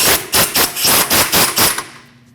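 Tightening an outer tie rod nut on a 2014-2023 Jeep Cherokee, with about eight rapid, loud ratcheting bursts in a steady rhythm, close up and on their own, ending in a short fading tail.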